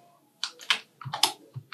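Keyboard keys and mouse buttons click rapidly at a computer during 3D modelling in Blender, a quick cluster of close, crisp taps.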